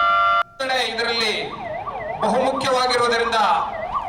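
An ambulance siren wails in a rising and falling cycle during a civil defense drill at a city corporation building. It is loud and close, with a short break near the start, and then keeps sounding continuously.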